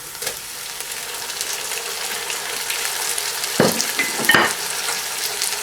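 Onion with ginger-garlic paste sizzles in a pan as tomatoes are added for moong dal, a steady close frying hiss with a couple of brief stirring clatters near the middle.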